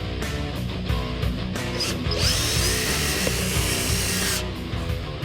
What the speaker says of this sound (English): You have to drill a 1/4" hole and then install the bolt from the bottom.